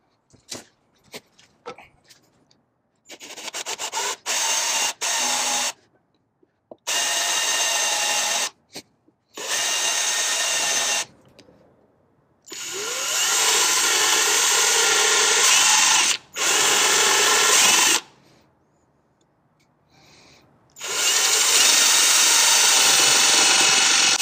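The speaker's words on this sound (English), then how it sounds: "we got to grab our drill with our makeshift router, and we're going to go ahead and start drilling into these holes" A handheld power drill fitted with a makeshift router bit drills holes in a DIY rod holder, whirring loudly in repeated bursts of several seconds with short clicks and silent pauses between runs.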